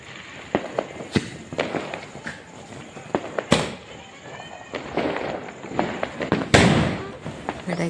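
Diwali firecrackers bursting outdoors, a scattered series of sharp cracks and bangs, some near and loud, others farther off, over a steady background of festive crackle, with voices heard at times.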